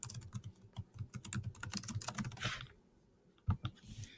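Quick bursts of keystrokes on a computer keyboard as a folder name is typed, near and clear, with uneven rhythm, a short pause, then a few final taps.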